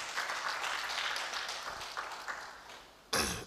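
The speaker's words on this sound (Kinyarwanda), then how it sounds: "reka tumukomere amashyi." Steady applause from a church congregation at a worship service, loud and continuous throughout, with a brief louder burst near the end and no speech over it.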